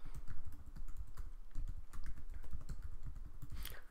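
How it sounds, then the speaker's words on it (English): An email address is typed on a computer keyboard as a quick, uneven run of close key clicks and taps that continues for several seconds, with no voices. "you can just simply type someone's email address"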